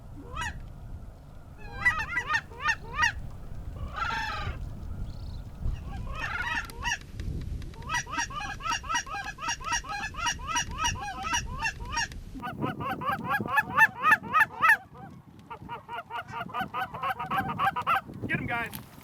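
A flock of Canada geese honks continuously over a field during a West Texas waterfowl hunt, with dense overlapping calls rising and falling in bursts, fairly close and loud, and only faint background noise beneath.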